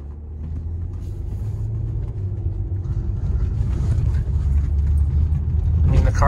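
Cabin rumble inside a 2015 Jeep Cherokee Limited driving over a brick road, a continuous low droning roar with uneven jostling that swells louder toward the end, finishing with a brief sharp knock.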